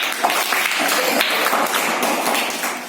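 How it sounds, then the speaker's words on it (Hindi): Children in a primary school classroom clap together for a pupil, a brief round of scattered hand claps, fairly close and lively, with no talk over it. "पंकज के लिए ताली बजाओ"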